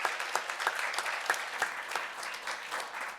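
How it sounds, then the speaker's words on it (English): Applause at a board meeting honoring Bolt Construction for an award, a steady patter of many hands clapping at moderate distance, with a few sharper individual claps standing out, no talk over it. "let's give a nice round of applause to Bolt Construction"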